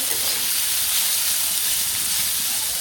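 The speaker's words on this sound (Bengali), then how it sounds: "পেঁয়াজটা করলাম ভেজে নিচ্ছি তারপরে আলু দিয়ে দিচ্ছি" Onions frying in oil in a pan in a village kitchen, giving a steady close hiss and sizzle with no pauses, alone, for under three seconds.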